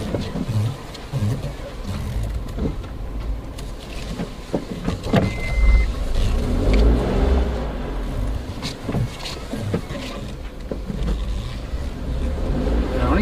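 A vehicle drives along a forest road in a wildlife area with elephants nearby, giving a steady, close engine and road rumble with scattered knocks and rattles throughout, with no talking.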